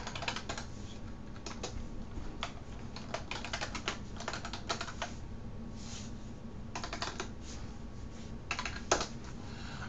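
Steady bursts of typing on a computer keyboard as details are entered into a web form, rapid clustered keystrokes with brief pauses, close and moderately loud.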